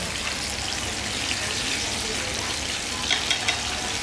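Whole banana cakes fry in hot oil with a steady, dense sizzle and crackle close by, a few brief louder pops near the end and no one talking.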